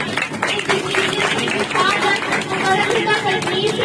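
A church congregation claps together in thanks to God during a sermon, a dense, steady wash of many hands with crowd murmur and voices underneath throughout.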